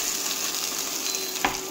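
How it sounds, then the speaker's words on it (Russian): Pelmeni dumplings fry in a pan, giving a steady, close sizzle with a soft crackling hiss that holds throughout, broken once by a brief scrape or stir near the end. "там по 5 минут их надо обжаривать с каждой стороны"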